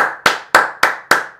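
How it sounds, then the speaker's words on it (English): One person clapping hands slowly and deliberately, five loud, close, sharp claps spaced evenly about a third of a second apart, each ringing briefly before the next. "I give round applause for that, man."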